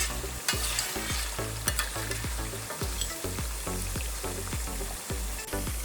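Mutton karahi frying over high heat in a wok, a steady loud sizzle broken by regular rhythmic scraping strokes of a spatula, close and without voices.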